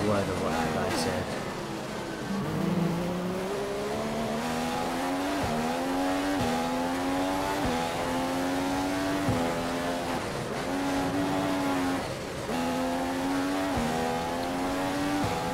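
A race car engine in the F1 2015 video game, driven at Italy's Monza circuit in a Manor Marussia, holds a steady high whine, rising through gears with brief dips on shifts, under a faint voice.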